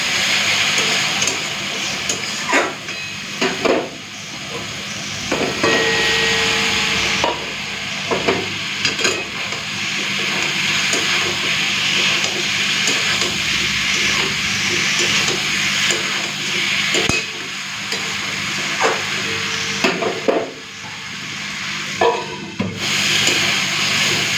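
Fried egg and potato cook down in a spiced masala for an egg curry, with a soft continuous sizzle and irregular scrapes and taps of a stirring spoon against the pan.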